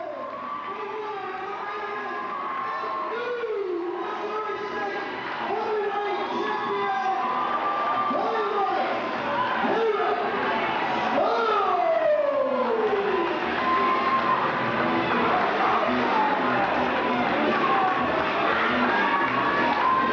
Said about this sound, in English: Let's take a listen to the crowd here.